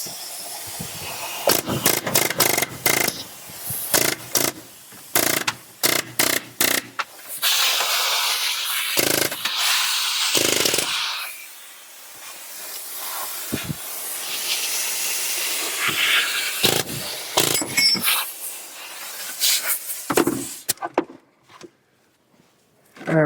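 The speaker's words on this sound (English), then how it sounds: "use air chisel or hand chisel to break a few of the teeth loose" Air chisel knocking loose teeth glued on a part, a series of sharp pneumatic bursts and hissing blasts in irregular rhythm, loud and close, with no talking.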